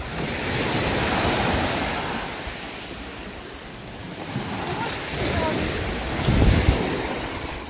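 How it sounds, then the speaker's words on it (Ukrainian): Sea waves wash onto a beach in Odesa on a fairly calm but slightly choppy day, a steady broadband surge rising and falling with wind buffeting the microphone and one stronger wave near the end. "Море начебто спокійне сьогодні, ну трошки зараз воно хвилюється."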